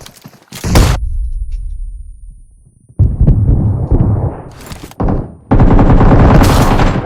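Close, loud gunfire in the battle royale game BGMI comes in rapid automatic bursts separated by short pauses, with heavy sustained volleys near the end and no voices.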